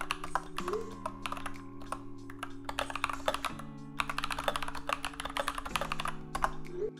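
Typing on a 98% layout mechanical keyboard fitted with lubed Panda switches in place of the stock browns, a steady stream of close, crisp key clacks, over a sustained musical tone.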